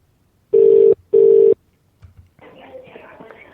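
Outgoing telephone call from Glasgow: two loud ringback tones sound in a steady double burst, followed by a pause and faint line noise as the call connects.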